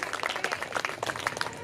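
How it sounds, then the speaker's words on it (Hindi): Applause and clapping from an audience at a devotional Bhagwat Katha gathering, a dense patter of hands that rises and swells steadily across the short stretch. "नायरा चौहान पे एक बार जोरदार ताली बजाओ"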